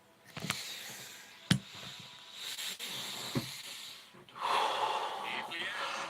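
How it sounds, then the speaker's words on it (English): Wim Hof method breathing on a third round: close, sharp inhales and hissing exhales come in uneven bursts, with a few louder gasps, then a longer rushing breath near the end. "Wim Hof breathing method on my third cycle."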